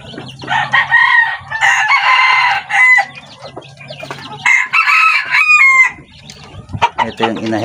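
A purebred labuyo jungle fowl rooster crows loudly at close range, two drawn-out crows separated by a few seconds, with clucking from other chickens in between and after.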